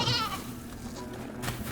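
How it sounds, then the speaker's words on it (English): Goats bleat in a cooperative wolf and deer video game, with a loud, high cry at the start and another burst near the end over a steady game soundscape. "Good work, goats."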